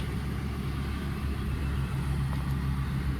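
A damaged salvage RV is pulled slowly around the block, a low steady engine rumble with a dull droning hum that stays even and fairly close throughout.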